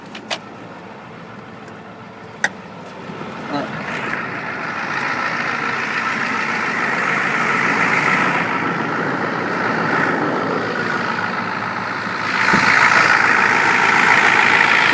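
A 1994 Ford F250 turbo diesel engine runs steadily close by, a continuous rumbling idle with turbo hiss that swells slightly louder toward the end, with no talk over it.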